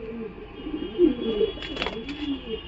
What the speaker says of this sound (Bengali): এই হলো পিজন বা পায়রাটি, দেখে বুঝতেই পারছেন কত বড় মাপের পায়রা।